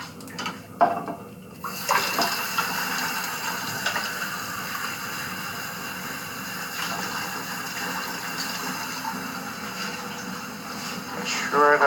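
Water from a tap or jug runs steadily into a container during a thermodynamics phase-diagram experiment, a continuous close splashing trickle with brief clatter at the start.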